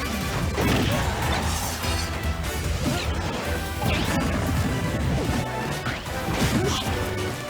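Forward smash attacks landing in a Super Smash Bros. 4 match between Bowser Jr. and Sheik, a steady barrage of loud crashing hits and whooshes over constant game noise and crowd din.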